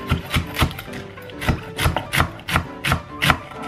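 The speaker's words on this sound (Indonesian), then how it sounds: "Kita iris-iris dulu sayurannya," A knife chops cabbage on a board for bakwan in steady, close, crisp strokes, about ten in under four seconds, each cut a sharp thud alone with no talking.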